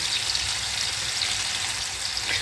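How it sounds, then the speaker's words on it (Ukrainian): Broiler chicken drumsticks fry in a pan, giving a steady, close, even sizzle and hiss that runs the whole time without a break and with no talk over it. "гомілки смажаться, такі пухкенькі"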